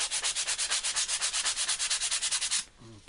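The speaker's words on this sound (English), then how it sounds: "just sand that up" Hand sanding the inside of a restored Sorrento wooden box with worn, fine scrap sandpaper: about twenty quick, even back-and-forth rasping strokes, close and steady, then stopping abruptly.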